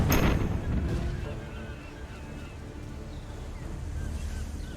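Ship cannons fire in the pirate video game Tortuga - A Pirate's Tale, opening with a heavy boom that rolls off into a long rumbling decay over sea and wind ambience.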